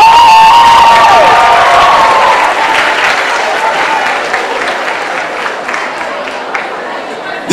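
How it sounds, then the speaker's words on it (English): Loud, full applause mixed with crowd cheering and shouts for the judges at a talent competition final, sustained throughout and gradually easing. "Have another big round of applause for the five judges."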